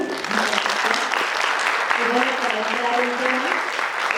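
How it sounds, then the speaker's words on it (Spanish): Applause from an audience at an academic medical program event, a dense steady clapping that fills the whole clip, with a faint tonal murmur or voices underneath. "vamos a darle un aplauso."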